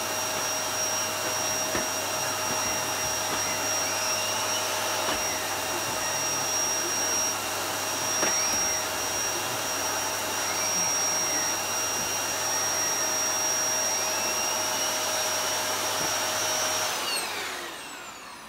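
A Hoover Performer bagged cylinder vacuum cleaner with a turbo brush runs steadily close by, a loud constant airy whine with a high tone and faint rubbing passes. It then powers down and winds off at the end.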